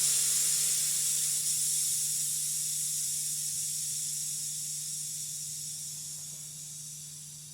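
A steady hiss of air escaping as hose fittings are removed to depressurize a system, loud at first and slowly fading over several seconds, alone with a faint low hum beneath.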